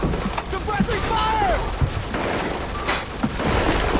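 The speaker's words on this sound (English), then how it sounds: "We're taking heavy fire on our position north of the overpass!" Heavy automatic gunfire and explosions in the Call of Duty 4 level The Bog, loud, dense and continuous, with bursts of shots and booms and shouted voices mixed into the battle.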